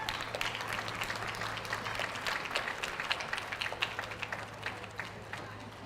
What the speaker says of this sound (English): Big round of applause as they leave the ring.